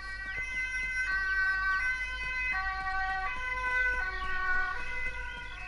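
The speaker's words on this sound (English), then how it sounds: "you hear that? Someone is dying. Well, I hope not. I hope that we'll be there in time. There was an ambulance." A wailing ambulance siren inside the video game Titan Quest, its tone stepping up and down in a steady repeating pattern, fairly loud and continuous with game ambience beneath and no talking.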